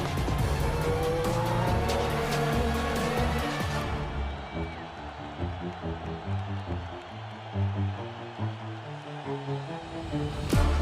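IMSA race cars roar around the track, their loud engine noise filling the first few seconds before it cuts away and music takes over.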